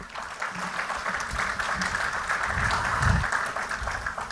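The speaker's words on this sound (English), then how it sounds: "Let me invite the Honorable Governor, the National Bank of Rwanda. Round of applause." An audience at a National Bank of Rwanda monetary policy event applauds the Governor, many hands clapping in a steady, even roar at moderate distance, holding level throughout with a faint low rumble of the room beneath.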